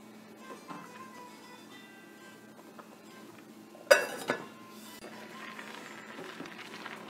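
Sweet milk wheat dalia stirred in a pot, soft scraping and gentle clinks of a spoon against the metal, quiet and close, with one sharper clatter midway.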